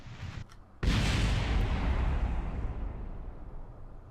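A weapon fires at a satellite in a space video game: a sudden heavy boom after a brief mechanical hum, followed by a long rumbling roar that slowly fades over several seconds, loud and close.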